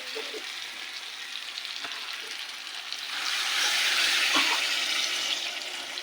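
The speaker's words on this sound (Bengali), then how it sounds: "এবার দিয়ে দেবো জল পরিমাণ মতো" Water pours into a hot pan of fried spices for a potato curry, a steady hissing sizzle that swells louder midway and stays broad and continuous, with a few faint clinks.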